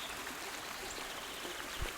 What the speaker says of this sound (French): Heureusement qu'il y a ce ruisseau.